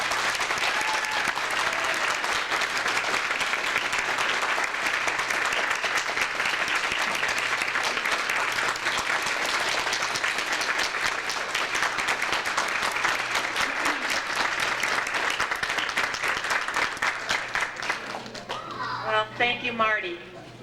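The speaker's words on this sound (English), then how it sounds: "please applaud the work of the library staff and its absolutely magnificent director" Audience applause for the library staff and director at a new library's opening, a long, steady, dense clapping that carries on for many seconds before breaking into scattered claps and brief voices at the end.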